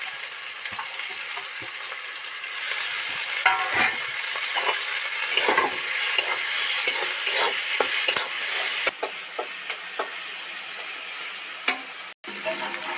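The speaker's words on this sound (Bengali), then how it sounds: "এবার এর মধ্যে যে গ্রেট করেছিলাম আদাটা উঠিয়ে দিচ্ছি, টমেটোটা দিয়ে দিলাম" Grated ginger and tomato fry with onions in a pan, a loud continuous sizzle with scraping stirs and crackles throughout, close up, with no talk.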